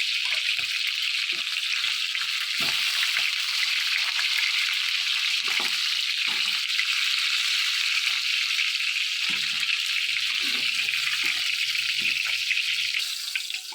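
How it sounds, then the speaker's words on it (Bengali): Chicken pieces lightly frying in a pan for chicken roast give a steady, continuous hiss and sizzle close by, with occasional faint stirring or low clinks, and no talking. "হালকা করে ফ্রাই করে নিই।"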